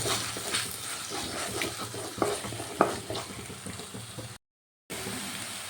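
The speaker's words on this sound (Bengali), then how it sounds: "এক চামচ আদা রসুনের পেস্ট সব কিছু আবারও ভালোভাবে কষিয়ে নেব" Spices with Kashmiri chilli powder and ginger-garlic paste sizzle in oil while a spoon stirs them, giving soft crackling and a few scraping clicks before a brief gap of silence.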